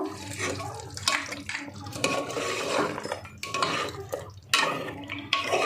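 Ground garam masala paste is stirred into mutton in a pot, a spoon scraping and clattering against the metal in uneven bursts with short pauses, close and fairly loud, with no talking.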